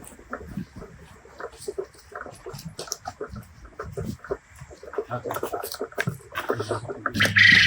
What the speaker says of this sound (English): let's go and check out the new chickens that we have here on the farm and that Chloe helped us get